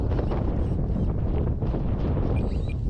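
Steady wind buffets the microphone at an RC warbird flying field, a dense broadband rush with no clear gaps, and a faint model engine whine appears near the end.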